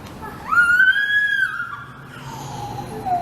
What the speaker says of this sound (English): As you can hear my happy baby in the background